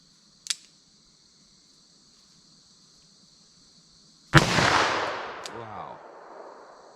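A 10mm revolver fires Hornady 155 grain XTP rounds, two sharp, loud, close shots several seconds apart, the second followed by a long echoing decay over a faint hum.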